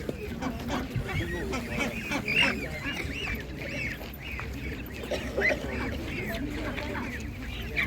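Ducks quack in a busy cluster nearby at an animal market, with scattered clucking fowl mixed in and people talking over the flock.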